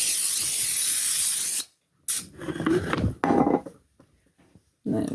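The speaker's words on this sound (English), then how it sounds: "I'm going to hit them with the spray olive oil" Spray olive oil misted over kalette florets in a kitchen, a long loud hiss followed by a few shorter bursts separated by silent pauses, close up with no talking.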